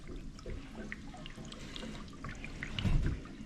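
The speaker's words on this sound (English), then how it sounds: "This is the sink drain here. So it's running." Water running down a sink drain under repair, a faint, steady trickle and gurgle with a slightly louder splash near the end.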